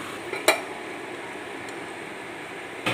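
Pot and pan sounds while cooking chicken fry: a couple of sharp metallic clinks as a lid is handled, over a steady low kitchen hiss, with no talking.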